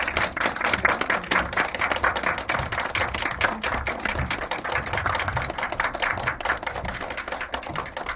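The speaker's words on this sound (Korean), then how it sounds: "큰 박수로 환영해 주십시오." An audience claps steadily throughout, dense sustained applause with no break, moderately loud, welcoming guests at a post-screening audience talk.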